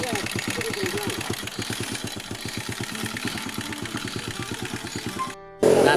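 A car engine runs nearby on a mountain-bound road, its low, pulsing throb steady and rhythmic for several seconds, with a voice speaking over it before an abrupt cut to a louder, rougher burst.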